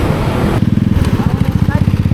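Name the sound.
motorcycle engine losing power uphill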